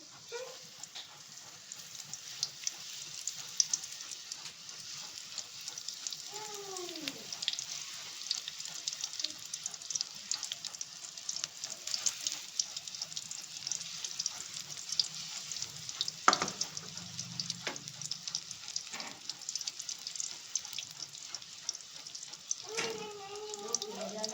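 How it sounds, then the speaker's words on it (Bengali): Green chillies fry one at a time in hot oil, a steady loud sizzle running throughout with occasional stirring clinks and a voice talking over it. "একটা একটা করে ভেজে নেওয়া হচ্ছে, যতগুলো দেয়া যায়।"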